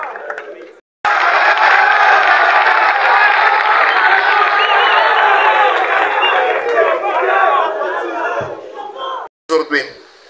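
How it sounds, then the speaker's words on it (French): A large crowd at a public presentation in Kinshasa bursts into loud, sustained applause and cheering with whoops, starting abruptly after a brief pause and running for about eight seconds before cutting off, followed by short bursts of sound. "Est-ce que vous pouvez applaudir pour vous-même?"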